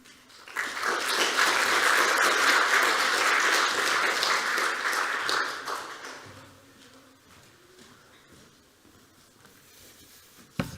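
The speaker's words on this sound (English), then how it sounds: "Another round of applause." A crowd applauds loudly at a spring senior graphic design exhibition event at York College. The dense, sustained clapping lasts about five seconds before it fades into quiet murmurs, with one sharp knock near the end.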